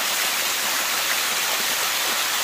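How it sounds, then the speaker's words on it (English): A Thailand waterfall roars in a steady, dense broadband rush of falling water, close and constant throughout with no voices. "Oh, another waterfall."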